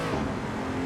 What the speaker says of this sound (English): Over revving again.